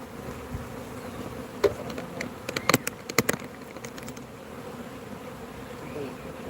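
Honey bees fly around hives in a bee yard, a steady close buzzing with several louder passes as individual bees zip near, under faint talk.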